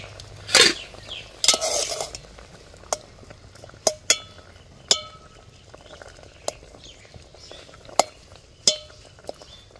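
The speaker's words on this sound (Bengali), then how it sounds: "ঢাকনাটা একটু সরিয়ে নিই।" A pot lid scrapes and clatters as it is moved aside while cauliflower cooks, followed by a series of sharp metallic clinks and taps against the pan.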